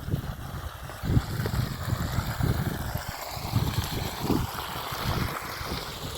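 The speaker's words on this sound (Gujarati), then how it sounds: "આપણે જીંદવામાં પાણી હાલે છે" Irrigation water runs steadily through a channel in a farm field, a continuous low rushing and gurgling wash with wind buffeting the microphone outdoors, no voices.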